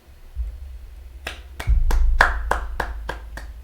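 Hands clap in a quick run of about nine sharp, close claps after a low rumble, the claps growing slightly louder and evenly spaced.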